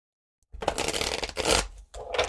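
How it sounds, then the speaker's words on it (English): A deck of tarot cards is shuffled by hand close up: a brief silence, then two riffling bursts separated by a short pause. "Give me a minute to shuffle the cards."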